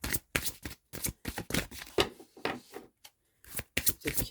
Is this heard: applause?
no